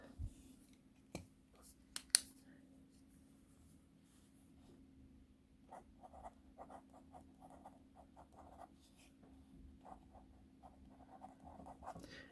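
An infinity pencil scratching across paper, faint irregular strokes after a few sharp clicks, quiet and close over a steady low hum.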